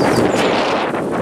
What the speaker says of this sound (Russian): Зато ветер с ног сдувает.